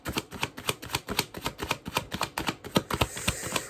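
Tarot cards shuffled by hand in quick, crisp riffling bursts, a rapid rhythmic flutter of card edges slapping together at close range with no talking.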